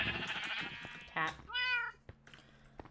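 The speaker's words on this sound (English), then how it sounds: "Cat." Minecraft cat meows once, clearly and briefly, right after a speaking voice, with faint game background sounds around it.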